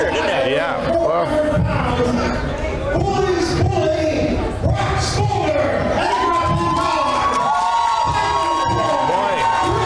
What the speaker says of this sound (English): the Bronx Boulder brought his cheering section this evening